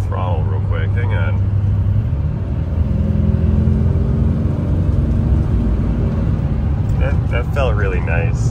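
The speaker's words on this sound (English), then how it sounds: "Now we're rolling about 60. Let's do some full throttle real quick." A 2007 Chevrolet Silverado 3500 with the 6.6 diesel pulls at full throttle around 60 mph, a steady, loud cabin rumble and whir building through the run while people talk briefly at the start and end.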